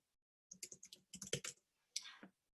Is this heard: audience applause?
no